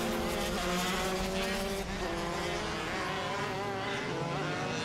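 Sprint race cars in the 2011 National Sprint Championship open final run on a damp, wet track in a continuous loud roar of engines and tyre spray, with a faint commentator's voice underneath.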